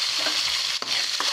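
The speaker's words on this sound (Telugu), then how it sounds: "కడాయిలో కొంచెం నూనె వేసుకుందామండి. టమాటాలు ఇలా ముక్కలు చేసుకొని వేసుకోవాలి." Tomato pieces fry in oil in a kadai, giving a continuous bright sizzle with a couple of quick stirring knocks.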